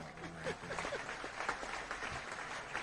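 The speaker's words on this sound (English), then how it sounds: "We need a round of applause for that." A small group claps and applauds steadily, with faint voices mixed into the clapping.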